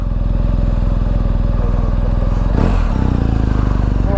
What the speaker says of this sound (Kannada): mister Ranjan is riding hour Mohan's ಗಾಡಿ